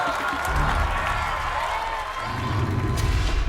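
Loud crowd cheering and applause for a female competitor at an American Ninja Warrior course, dense clapping and shouts sustained throughout, swelling toward the end.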